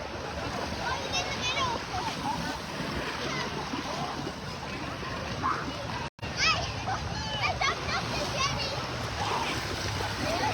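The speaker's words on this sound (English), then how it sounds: "Red Rebels are coming up out of the water." Waves splash and surge around activists wading up out of the sea at Glenelg Beach, a steady near wash of broken water with sharper splashes, and voices chatter throughout.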